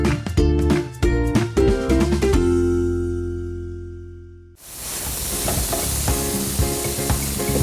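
Chicken sizzles in butter in a hot pan, a loud, steady frying hiss that swells after a brief lull, with some clattering early on.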